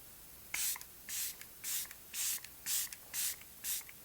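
A non-aerosol ultrafine mist setting spray spritzed onto a face, seven quick hissing pumps in an even rhythm, close and crisp with brief pauses between each burst.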